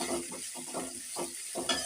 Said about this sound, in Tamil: அதையும் போட்டு நல்லா வதக்குங்க.